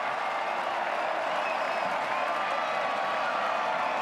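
A stadium crowd at a New Zealand versus Tahiti World Cup qualifier football match applauds a goal, a broad, distant wash of clapping and murmuring that holds steady throughout.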